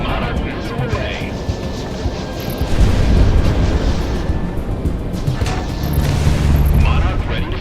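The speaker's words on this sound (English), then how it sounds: "Monarch missile away" A missile explosion in the VR combat flight game Project Wingman: deep booming rumbles swell midway and again near the end over a steady jet-engine roar, loud and close, with voices speaking underneath.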